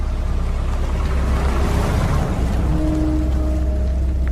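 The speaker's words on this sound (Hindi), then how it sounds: "आसमान में काली घटा छाई हुई थी, जोरों से बारिश होने लगी थी।" Heavy rain falls in a steady, dense roar, loud and continuous throughout, with a faint low tone partway through.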